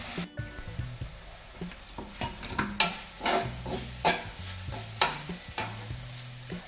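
A spoon scrapes and stirs frying food in a pan, making a run of irregular, close scraping strokes over a soft sizzle, with no talk.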